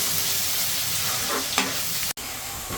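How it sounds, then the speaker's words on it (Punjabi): Onions frying and sizzling in a pan while being stirred into a light brown during home cooking, a steady close hiss with soft scraping stir sounds and no talk. "ਇਸ ਨੂੰ ਪਿਆਜ਼ ਕਰਾਂਗੇ ਲਾਈਟ ਬ੍ਰਾਊਨ"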